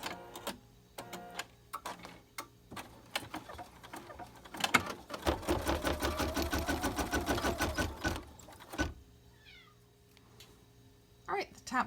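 An embroidery machine stitches a sequence on an in-the-hoop quilted zipper bag, with a rhythmic mechanical chatter lasting about four seconds, set among quieter handling sounds and clicks.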